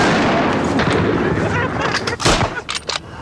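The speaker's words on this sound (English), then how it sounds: "This being an exercise, there are no Germans, and Jerry's grenade is simply a thunder flash." Thunder flash used as a simulated grenade during a wartime training exercise on a farm, heard as sharp, loud bangs and a burst of blast noise amid rough outdoor background.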